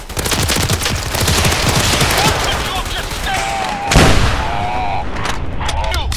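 Automatic security turrets firing in Fallout 4 during a lockdown, dense rapid bursts of gunfire sustained throughout with a heavier boom near the middle, loud and close amid a chaotic game mix.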